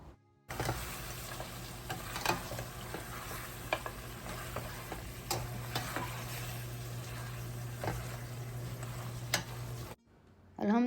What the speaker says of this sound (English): Now keep the flame high and cook it for 5 minutes without lid